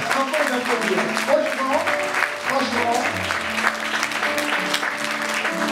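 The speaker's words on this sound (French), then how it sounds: "On va les applaudir." An audience applauds a gospel choir at a church service, with steady, dense clapping that carries on throughout, and a voice speaks over it.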